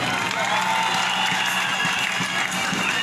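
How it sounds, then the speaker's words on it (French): Dense crowd at a coupé-décalé music show on stage applauds and cheers continuously, with whoops and shouts rising over a steady roar of clapping. "Applaudissez pour le DJ Mix."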